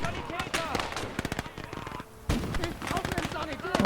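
Rapid bursts of machine gun fire crackle through a war video game battle against an infantry rush, loud and dense, with someone talking over the shooting throughout.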